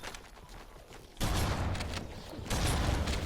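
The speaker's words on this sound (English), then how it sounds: "We're gonna go through this window again, so shoot it out." Automatic gunfire in Halo: Combat Evolved as a window is shot out. It begins abruptly after a quiet lead-in, a loud continuous burst of rapid shots that swells louder again near the end.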